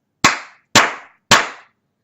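Three sharp hand claps, evenly spaced about half a second apart, close and loud in an otherwise silent room, made as an audio sync marker.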